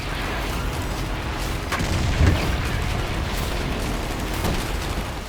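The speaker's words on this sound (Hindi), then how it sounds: "इजरायली सेना और हमास समर्थकों के बीच जमकर फायरिंग हुई।" Heavy gunfire during a clash between Israeli army troops and Hamas supporters in Tulkarm, a dense, continuous roar of shots and booms with one louder burst near the middle, no voices.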